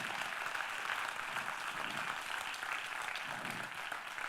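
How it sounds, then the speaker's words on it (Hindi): Seminar audience clapping, a full, sustained round of applause from a crowd, steady and fairly close, with no talk over it. "ताली जरूर।"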